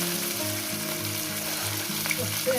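Steady, loud sizzling of carrots and green chillies frying in a wok, with a continuous crackling hiss and a brief clatter of stirring near the end.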